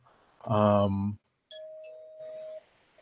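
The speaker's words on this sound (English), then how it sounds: "I'm still going to ring the spoiler bell." A spoiler-warning bell sound effect on a comic book podcast: a short burst of a voice-like tone, then a single clear ring that holds steadily for about a second before stopping.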